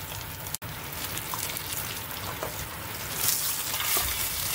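Bear fat rendering down in a pot, a dense, continuous crackling sizzle that grows slightly louder and brighter toward the end, heard up close with no talk.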